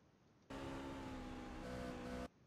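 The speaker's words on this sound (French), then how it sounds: "On entend bien le bruit du moteur." A race car engine in the iRacing simulator roars up loudly and steadily as it accelerates, a sustained high-revving drone starting abruptly and holding for nearly two seconds before cutting off, with no talk over it.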